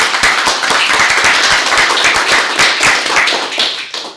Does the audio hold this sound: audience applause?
yes